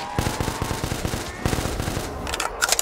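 A Scar H rifle fires in Black Ops 3 custom Zombies as rapid, loud automatic bursts of closely spaced shots, with a short pause midway and clinking at the end.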